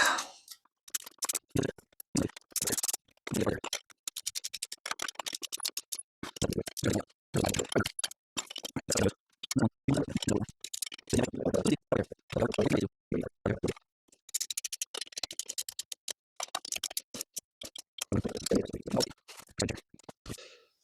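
Wrench and metal clicks from bolts being tightened on a smoke exhaust being fitted to a Vulcan S motorcycle, quick bursts of ticking and scraping with short pauses, close and fairly loud.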